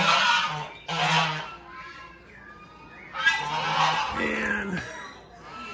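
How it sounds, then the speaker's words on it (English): Ducks by a lake at a countryside resort give loud honking calls in bursts, with quieter stretches between, heard close by. "I don't know how happy those ducks are that are here."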